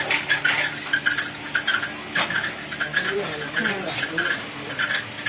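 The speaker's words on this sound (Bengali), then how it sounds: "এই যে তিনটি কড়াইতে চাল নাড়া হচ্ছে" Rice is stirred in the roasting pans of a puffed-rice machine, a steady rhythmic scraping and rattling of grains against metal, with faint voices underneath.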